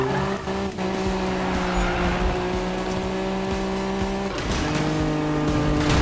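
A car drifts in the Need For Speed racing game, its engine droning loudly while tires squeal in long sustained skids, the pitch shifting midway as the slide changes.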